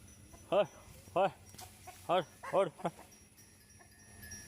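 Several short, loud clucks from chickens come in bursts, a few closely spaced, against a quiet background.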